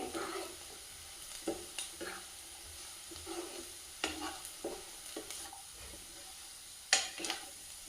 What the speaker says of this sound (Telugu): వేడి అయిన ఆయిల్లో సన్నగా తరిగిన ఉల్లిగడ్డ, తెల్ల శనగలు బాగా ఫ్రై చేసుకోవాలి.